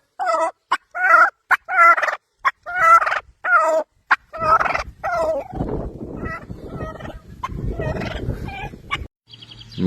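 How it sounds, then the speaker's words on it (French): Hens, some of them ex-battery hens, cluck and squawk in a rapid series of sharp calls. Then a denser, overlapping chorus of clucking and rustling follows, close by and fairly loud. "Surtout que ça, les rouquines là, c'est des poules de batterie"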